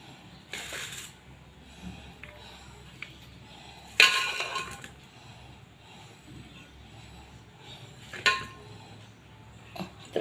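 A few sharp clinks of a utensil against a dish while hot tomato rice is served in a home kitchen. The clinks are isolated, with two clearer ones about four seconds apart over a quiet background.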